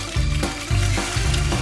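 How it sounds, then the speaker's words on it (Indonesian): Ham and cheese sandwich frying in a pan, a steady loud sizzle with bubbling and hissing throughout, close up and without any talk. "aku akan menggorengnya dalam wajan."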